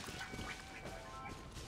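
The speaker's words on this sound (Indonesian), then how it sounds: "Enggak ada, adanya bebek." A duck quacks in the video game Genshin Impact, a few faint short quacks among soft game ambience and tonal background effects.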